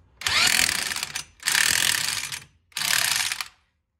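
A ratcheting torque wrench tightens the axle nut on a Suzuki King Quad ATV: three loud, close bursts of rapid ratchet clicking, each about a second long, separated by short pauses.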